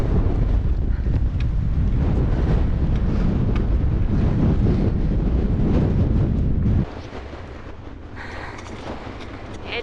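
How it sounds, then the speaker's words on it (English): Strong gusts of wind buffet the microphone on a hilltop along a walking trail near an old stone wall, roaring loudly and continuously before easing to a softer, steadier blow. "Bit windy up here."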